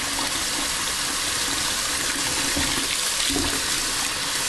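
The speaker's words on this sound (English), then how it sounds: "I'm going to let cold water run in that pot." Cold water pours steadily from a kitchen tap into a pot set in the sink, a continuous broad rushing splash filling the whole clip at close range with no talk.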